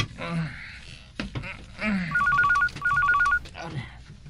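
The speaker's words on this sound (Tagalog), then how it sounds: "Aring telepono." Telephone rings in two short trilling bursts, close and clear, with a person talking just before and after.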